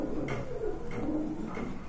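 Andalusian and Maltese pigeons cooing close by, a few soft low rolling coos repeated in a slow rhythm over a quiet background hum.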